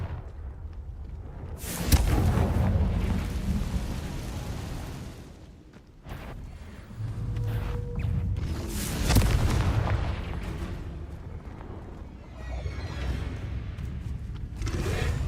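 A Confringo spell goes off in Hogwarts Legacy with loud, rumbling explosive booms. Several heavy blasts roll out over a sustained low roar of combat.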